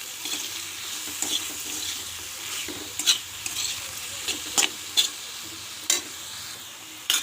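Dried shrimp and salt are stirred in a frying pan over a steady sizzle, with a spatula scraping the pan in irregular strokes and sharp knocks punctuating the frying.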